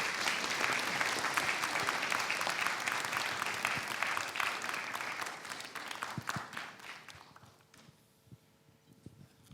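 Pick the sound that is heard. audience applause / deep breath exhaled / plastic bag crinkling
audience applause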